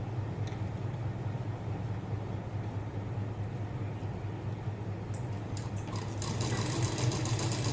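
Domestic sewing machine stitching a traditional blouse runs in a steady, continuous motor hum with a fast mechanical needle rhythm, close up and even, with a few light clicks and a slight rise in intensity near the end.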